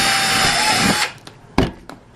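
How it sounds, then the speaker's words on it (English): A power drill bores a hole while fitting a Lisa Star #3B Silver fixture, running loud and steady for about a second before stopping, followed by a couple of short clicks and knocks. "drill down"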